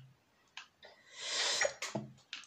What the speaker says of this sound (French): Je viens d'éternuer